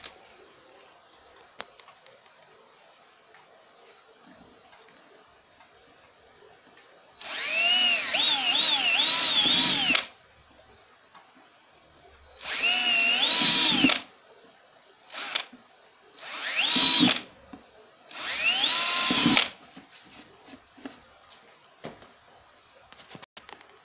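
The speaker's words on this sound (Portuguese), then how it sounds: "Vou só fazer dois furos aqui para colocar uma abraçadeira Hellman." A power drill bores two holes for mounting a cable-tied antenna on an automatic gate, heard as several loud close bursts of spinning motor separated by quiet pauses, with no talk.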